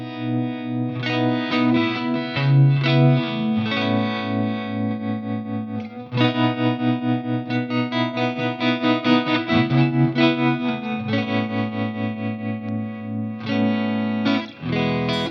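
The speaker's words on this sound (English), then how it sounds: "I only have 2 tremolo sounds I'd want to go between, kind of a lighter and a heavier" A distorted electric guitar through a Fractal FM3 plays chords with a pulsing, wavering tremolo that shifts between lighter and heavier, choppier sections, loud and without any voices.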